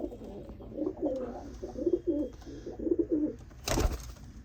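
Pigeons, including Pakistani and peacock-type birds, coo in a series of soft, rolling calls close by, followed by a sharp brief rustle or flutter near the end, with no talking.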